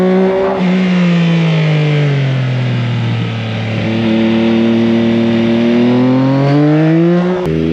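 2025 Yamaha MT-09 SP three-cylinder motorcycle engine pulls hard and loud under acceleration while riding, its rising and falling rev tones sweeping up through gears, close and continuous throughout, no talk.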